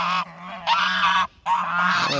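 Geese honk loudly and close by at a goose farm in Kars, in a few long, nasal calls separated by brief pauses.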